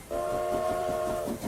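A train horn as a sound effect sounds one steady, loud, multi-tone blast that holds for over a second and then cuts off abruptly.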